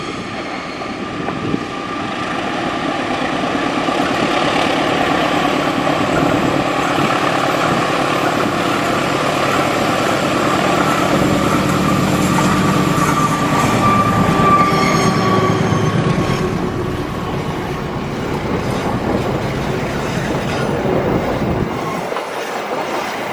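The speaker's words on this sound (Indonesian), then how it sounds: "Ada apa dengan kereta api Argo Wilis sampai harus menggunakan double lokomotif seperti ini?" An Argo Wilis passenger train hauled by double locomotives rumbles past, loud and close, with a sustained roar of engines, clattering wheels and metallic squeals, fading out near the end.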